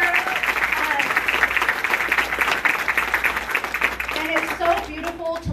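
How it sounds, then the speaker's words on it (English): Audience applause fills a town hall in Las Vegas after a choir performance, dense steady clapping from a large crowd throughout, with a voice briefly audible near the end. "Round of applause for Reverend Moore and the choir."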